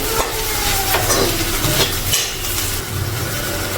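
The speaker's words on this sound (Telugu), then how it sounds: "ఒకసారి బాగా కలుపుకొని" Ivy gourd (dondakaya) fry being stirred with chilli powder in a pan, a steady close sizzle with scraping spoon strokes and light clinks against the metal, continuous throughout.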